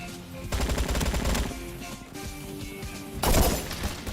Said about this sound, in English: oh, that was a good Molotov